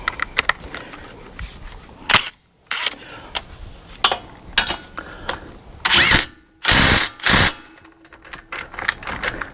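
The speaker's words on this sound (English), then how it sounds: "now let's see if we can get them back started with this impact driver." Impact driver tightening front brake parts on an Acura, several sharp loud hammering bursts of varying length amid quieter clicks and shop noise.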